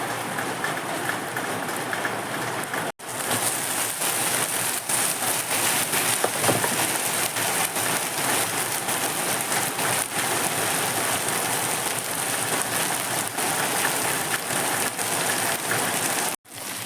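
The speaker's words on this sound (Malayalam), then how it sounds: "നല്ല സൂപ്പർ മഴ പെയ്തുകൊണ്ടിരിക്കുകയാണ്" Heavy rain pours steadily and loudly, a dense continuous hiss of drops hitting surfaces with no voices.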